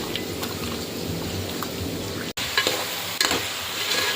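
Masala with tomato frying and being stirred in a pan for a meat curry, a steady crackling sizzle with occasional spoon clicks and a brief dropout midway, no voices.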